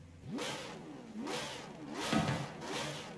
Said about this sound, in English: This is the Huayra R engine